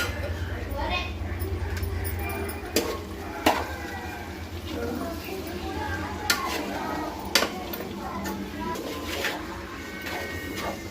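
Fried goat tripe and ginger get stirred in a pan, with a spatula giving scattered sharp clicks and scrapes against the metal over a low background hum and faint voices.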